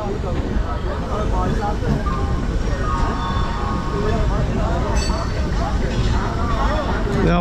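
Rajdhani Express passing on the Bardhaman–Howrah chord line, heard from a moving local train: a loud, steady rumble and rattle of carriages going by without a break, with a voice talking over the noise.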